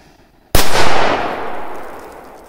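A firecracker bursts under an upturned metal bowl with one sudden loud bang, followed by a long ringing, clattering decay that fades over a couple of seconds.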